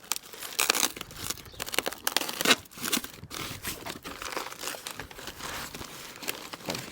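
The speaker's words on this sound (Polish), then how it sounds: "Ściągamy tu te wszystkie zabezpieczenia, bo to nie będzie nam potrzebne." Protective plastic wrapping and packing material being pulled off an electric scooter, a steady stream of close crinkling, crumpling and tearing with sharp bursts throughout, no talking.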